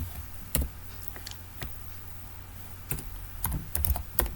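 Someone types CSS code on a computer keyboard, giving quiet, irregular key clicks in short bursts with a denser cluster near the end.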